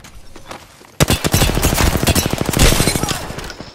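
Heavy gunfire erupts in an Apex Legends firefight, a sudden loud onset followed by a rapid stream of sharp automatic shots that carries on for several seconds before fading, with no voices over it.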